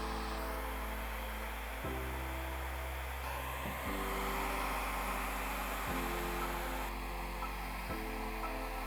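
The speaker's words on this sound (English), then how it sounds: "Then shrink the rest of the wrap using the hair dryer." A hair dryer blows steadily while shrinking plastic window film into place, a continuous close airy roar with a low hum that shifts in pitch every couple of seconds as it is moved or adjusted, with no voices.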